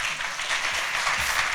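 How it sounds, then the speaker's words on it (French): A brief, dense burst of applause fills the room at an export awards evening as a third-place artisan category prize is announced, steady and unbroken. "tonnerre d'applaudissements"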